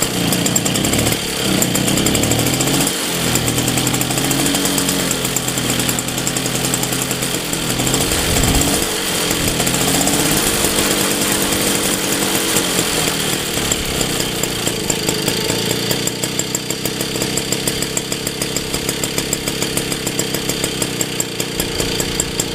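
A 1963 Motobécane AV48 moped's small two-stroke engine runs loud and close after a few starting bursts, settling into a rapid buzzing idle with rhythmic pulsing that continues without talk.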